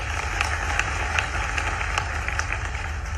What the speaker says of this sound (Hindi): एक बार उनके लिए ताली बजा दो